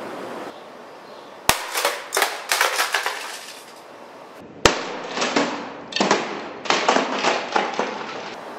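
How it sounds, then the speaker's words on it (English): An Xbox console thrown off a deck strikes the ground twice, each impact a sharp, loud crack followed by rattling clatter and scattered knocks, with quieter outdoor ambience in between. "Today I'm going to be throwing off my deck this Xbox."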